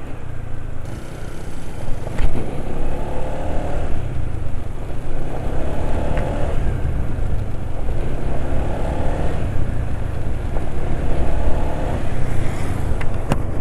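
A motorcycle engine runs steadily up close after an oil change, its pitch rising and falling in gentle revs every couple of seconds over a constant mechanical drone.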